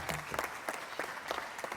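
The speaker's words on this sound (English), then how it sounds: "Give her a round of applause as she comes up." Audience clapping for an honoree receiving a governor's citation at a women and veteran owned business summit, a steady burst of dense applause filling the hall throughout.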